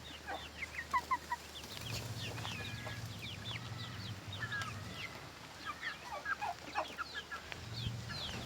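Chickens and turkeys in a mixed rural backyard pen cluck in scattered short calls throughout, fairly faint and distant, over a low steady background hum.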